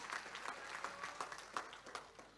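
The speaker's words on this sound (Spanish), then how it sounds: "Démele fuerte el aplauso al Señor." A church congregation claps along in rhythmic unison during a worship service, quiet and somewhat distant, with a regular beat of claps roughly every third of a second.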